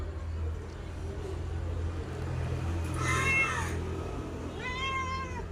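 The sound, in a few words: pet cat meowing while being offered food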